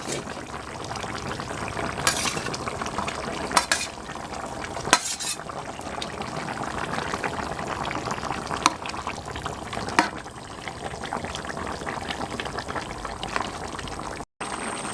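Fish pieces go into a simmering aubergine and potato curry. A spoon stirs and clinks against the pot, and the liquid bubbles and sloshes in a steady, close-up kitchen scene with no talking.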